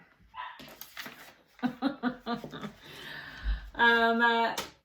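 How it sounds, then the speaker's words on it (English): A dog barks and whimpers in short, close bursts, followed by a longer high whine, with a voice speaking in between. "Sorry if you hear my dog barking."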